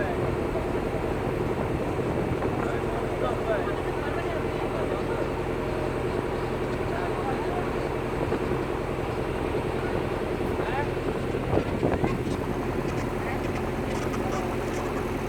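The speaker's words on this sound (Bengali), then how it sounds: "শোলা খালের ভিতর দিয়ে আমাদের নৌকা প্রবাহিত হচ্ছে" A boat travels along the Shola canal through Sundarbans forest, its engine a steady low drone and broad rumble that runs unbroken throughout, with voices talking faintly over it.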